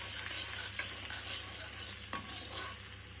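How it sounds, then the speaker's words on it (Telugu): Ginger and garlic frying in hot oil in a pan while street-style egg fried rice is cooked, a continuous bright sizzle with occasional stirring scrapes, close and steady. "మళ్ళీ కొద్దిగా ఆయిల్ వేసుకుని ఆయిల్ వేడయ్యాక అల్లం వెల్లుల్లి కట్ చేసుకుని అల్లం వెల్లుల్లి వేసుకుని కొద్దిగా ఫ్రై చేసుకుని"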